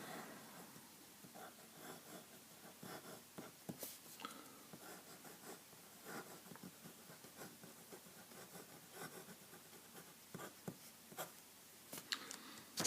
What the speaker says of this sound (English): here we're going to have the writing sample of the Pilot Metropolitan